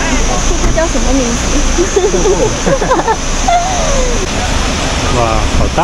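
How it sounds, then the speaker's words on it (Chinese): A large waterfall in Doi Inthanon National Park, Thailand, roars as a loud, steady wash of falling water while people talk excitedly over it nearby. "哇，好大呀，这个瀑布。"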